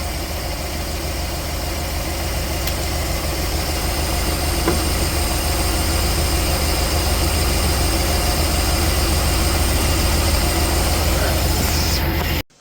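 A 1969 Chevelle barn find engine idles steadily and loudly after a carburetor rebuild, a constant rumbling drone with no talk.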